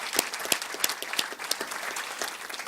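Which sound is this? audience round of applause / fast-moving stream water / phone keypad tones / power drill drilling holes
audience round of applause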